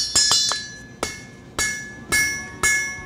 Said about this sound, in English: Half of my hammer is over the anvil and half of it is on the stock.